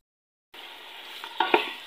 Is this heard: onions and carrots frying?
yes